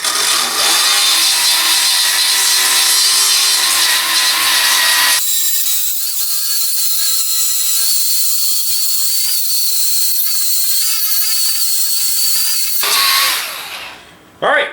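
Milwaukee M12 variable speed polisher/sander (2438-22X) cleaning a steel gasket surface, a loud continuous high whirring grind running steadily throughout, its pitch shifting partway through before it winds down near the end.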